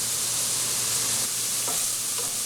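Onions frying on top of bison chili in a pot, a steady hiss of sizzling and splattering with a faint stirring scrape, no voices.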